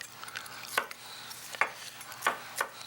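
Celery being chopped with a knife on a cutting board for lobster roll filling, giving a few sharp, separate knocks spaced irregularly across a quiet kitchen background.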